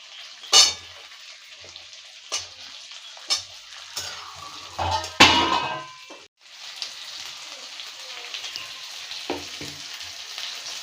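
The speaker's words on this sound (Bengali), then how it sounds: "আর পেঁয়াজ দিয়ে দেবো।" Chopped onion dropped into hot oil for a village-style chilli soybean dish, sizzling steadily with sharp clatters of stirring spoon bursts throughout, close and fairly loud, with no talking.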